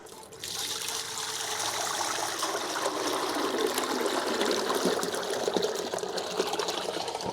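Water pours steadily into a glass fish tank in a continuous splashing stream, bright and close, building slightly in fullness as it runs without pause.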